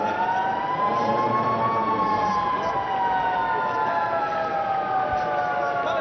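A long, steady stadium siren wail with slowly sliding pitch sounds continuously over a noisy crowd at the Dubai Rugby Sevens, loud and close throughout.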